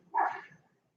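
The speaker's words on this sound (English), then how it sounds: "I would like to apologize if you hear a dog barking in the background." An old dog gives a single sharp bark in the background, a short burst that fades quickly into quiet.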